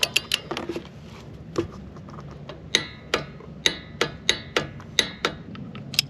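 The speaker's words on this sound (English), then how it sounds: "while rotating the wheel counterclockwise, I'm going to tighten the castle nut to 30 foot-pounds" Sharp metallic clicks from a torque wrench tightening a castle nut on a boat or equipment trailer wheel hub, repeating at a steady ratcheting rhythm with several quick clicks first, close and fairly loud, with no talk.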